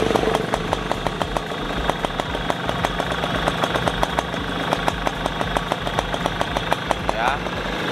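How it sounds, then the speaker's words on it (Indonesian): Suzuki RC100 motorcycle engine idling up close, a steady rapid putter with fine regular ticking, running evenly throughout; set for economical everyday use and in poor condition. "ini mesinnya hidup"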